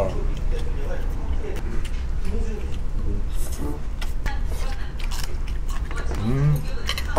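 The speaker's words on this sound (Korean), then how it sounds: "씹고 뜯고 맛보고 즐기고." Grilled Korean makchang and sundae being chewed and bitten up close, with wet, crunchy chewing and soft biting repeating in rapid bursts, while a voice speaks briefly over it.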